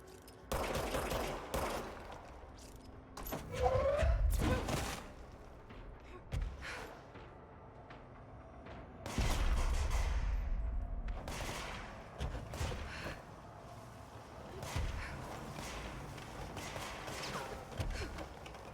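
Gunfire in the action video game Control, several heavy bursts of shots and impacts separated by quieter stretches of game ambience, punchy and close, with no talking.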